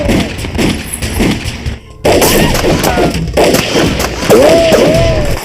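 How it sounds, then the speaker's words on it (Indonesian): A film shootout: sharp gunshots and heavy thuds crack out irregularly amid dramatic music and shouting, loud and close, with a brief drop in sound before a fresh burst of firing. "Raja dan Tarang pun akhirnya perang tembakan."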